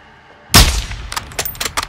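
A single sharp sniper rifle shot in Call of Duty: Modern Warfare 2 fires loud and close after a quiet pause, followed by a ringing tail and a few clattering metallic clicks of the bolt.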